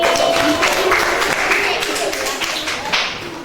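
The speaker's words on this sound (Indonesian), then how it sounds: "Tepuk tangan buat Eni" Classroom applause from a group of students, a dense burst of clapping that stays loud and steady before thinning slightly, with voices mixed in.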